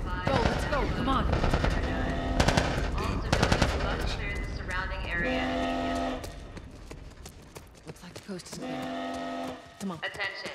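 Video game gunfire crackles in rapid automatic bursts and scattered single shots, loud and close, amid shouting voices and other in-game action noise.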